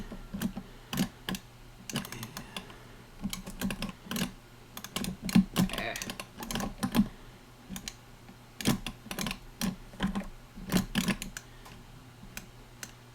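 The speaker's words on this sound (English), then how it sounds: "You can actually hear the buttons clicking away." Buttons on an Intellivision controller with a 16-way disc click in quick, irregular bursts during gameplay, close and crisp against a quiet background.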